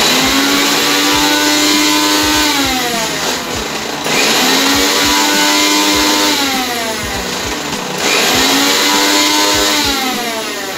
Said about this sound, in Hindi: अभी इसे मिक्सी में चला लेते हैं।